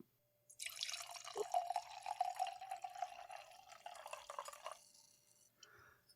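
Fukucho Moon on the Water Junmai Ginjo sake is poured into a glass, a steady close liquid stream with light splashing that runs for about four seconds and then stops, with no talking.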